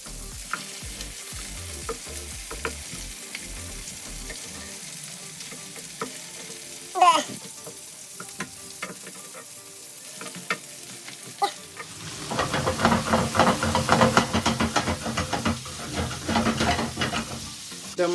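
Garlic tiger prawns frying in a pan with vegetables, a low sizzle with occasional clacks as they are turned, then a louder, busier crackle after the flip, close and with no talk.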